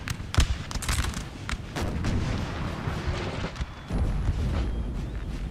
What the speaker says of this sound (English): I swear I'm hearing artillery